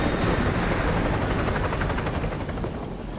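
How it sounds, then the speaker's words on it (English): A helicopter thunders overhead in Call of Duty Modern Warfare 2 Remastered, its steady rotor chop loud and continuous, then easing slightly as it passes, with no speech. "Chopper inbound, keep low."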